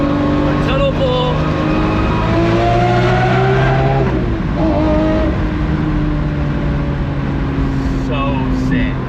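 A gated Lamborghini Murcielago pulls hard through a tunnel, its engine roaring loud and close with rising harmonic tones, a brief gear change midway, then continuing to climb, the echoing roar filling the space.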